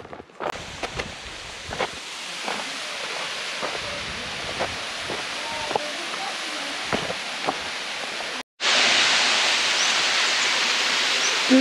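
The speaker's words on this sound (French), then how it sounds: "Petite pause à la cascade." Mountain waterfall on the GR20 trail in Corsica, a steady broadband rush of falling water that swells louder near the end, with sharp knocks and footsteps scattered over it.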